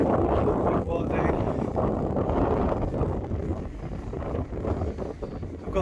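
Gusty wind buffets the microphone at a beach, a steady low roar that swells and dips throughout, with faint talk mixed in.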